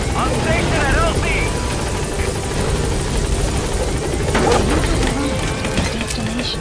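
A support helicopter lifts off in Metal Gear Solid V, its rotor thumping steadily and loudly with a constant engine roar. Radio voices speak over the noise.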